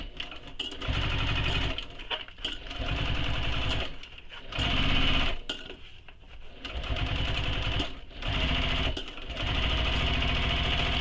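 A sewing machine stitches the gusset of a bowler bag, running in fast, rapid bursts of mechanical chatter a second or two long separated by short pauses, close and loud.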